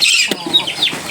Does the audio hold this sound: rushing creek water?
no